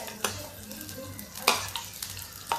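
Whole spices tempering in hot oil for dhaba-style spinach dal, a lively sizzle punctuated by several sharp spoon-on-pan knocks and stirring scrapes at an uneven rhythm, close up and without talk.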